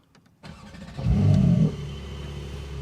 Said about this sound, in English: this is the sound of the stock GTS